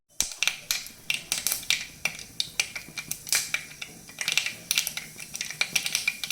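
Rapid irregular pops and crackles, like mustard seeds bursting in hot oil, sharp ticks scattered continuously over a low background.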